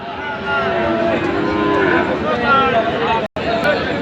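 Cattle moo at a busy livestock market where bull calves are sold, a long drawn low call rising loud and close over crowd chatter and nearby talk.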